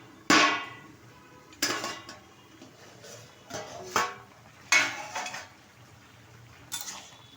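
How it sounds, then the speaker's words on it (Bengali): A metal lid comes off a cooking pot of pumpkin greens with jackfruit seeds, giving several sharp, close clanks and scrapes spaced a second or two apart, each one fading quickly into a quiet kitchen. "ঢাকনাটা তুলে দিচ্ছি।"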